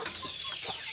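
Local rooster birds of about two kilograms cluck briefly and close by, a short burst of fowl calls over a steady background.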